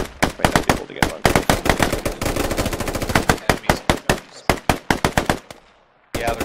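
Video game gunfire on the First Light map: rapid automatic bursts of sharp, loud shots in dense strings, one long sustained volley, then brief pauses and a final burst, with no talk.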